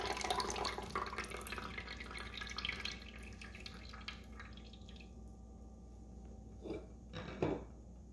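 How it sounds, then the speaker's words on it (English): Juice drips steadily from a Breville Big Squeeze cold press slow juicer, a faint, close, continuous trickle with soft splashy taps near the end and no talking. "I want to let the juice drip out right now"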